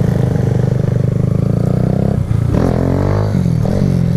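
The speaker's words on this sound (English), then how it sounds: "I suppose we can try a little warm-up wheelie." A motorcycle engine close by, revving hard in a loud buzzing drone that dips briefly and climbs again as the bike is pushed up for a warm-up wheelie.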